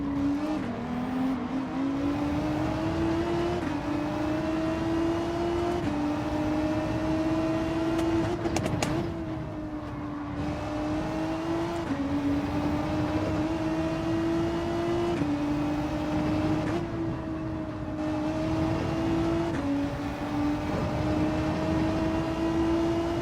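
In Gran Turismo 7, a race car engine drones loudly at high revs through the whole stretch, climbing in pitch as it accelerates and dropping briefly at several gear shifts.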